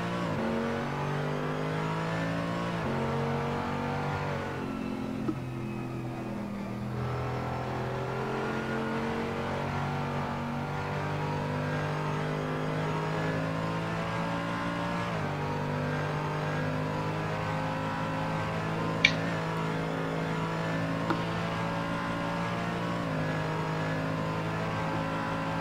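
Mercedes race car engine in a sim racing game at Road America, a sustained loud revving drone with pitch rising through the gears and shifting, continuous throughout.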